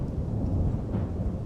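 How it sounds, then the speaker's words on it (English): Thunder from a passing thunderstorm outside, a continuous deep low rumble rolling steadily with light rain noise and no talk. "We're having a storm."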